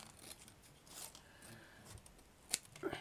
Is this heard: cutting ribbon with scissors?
yes